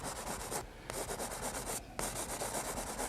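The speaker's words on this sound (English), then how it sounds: "And all we're doing here is just sort of scrubbing this on." A paintbrush scrubs paint onto canvas with quick, close, rhythmic scratchy strokes, broken by two brief pauses and with no talking over it.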